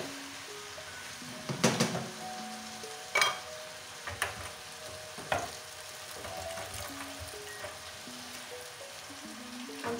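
Food sautés in a pan with a constant soft sizzle, broken by several louder scraping stirs or clanks spaced a second or two apart, close up and without talk.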